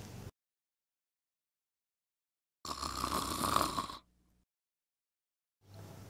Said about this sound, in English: let out a loud snore and pretended to be asleep